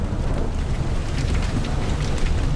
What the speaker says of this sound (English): We have a big storm.